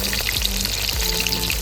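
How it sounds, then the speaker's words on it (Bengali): Pieces of katla fish frying in hot oil, crackling with bright spitting pops over a steady sizzle, plus a few low thuds as pieces are handled, close and fairly loud with no speech. "মাছ ভাজা একদম কমপ্লিট হয়ে গেছে, পুরো লাল লাল করে ভেজে নিয়েছি দু সাইডে"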